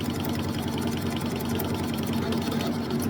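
A manual milling machine makes an interrupted cut through steel motorcycle handlebar risers for a rigid Triumph chopper, giving a loud, steady mechanical drone with a rapid, regular clanking pulse as the cutter crosses the bolt holes.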